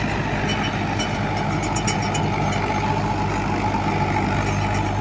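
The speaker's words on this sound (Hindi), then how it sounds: "क्या ट्रैक्टर दबाव ले रहा है, खुल के चल रहा है अब जैसे चलता है।" A tractor engine drives a rotavator during tillage without being overloaded, making a continuous, even drone with deep low rumble that holds steady and close throughout, with no voices.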